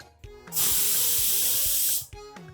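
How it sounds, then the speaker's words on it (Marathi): A pressure cooker lets off a loud, sharp jet of hissing steam for about a second and a half while cooking ivy gourd rice, with soft music before and after. "आता आपण कुकरचं झाकण बंद करूया आणि ह्याला 1 शिट्टी येऊ देऊया."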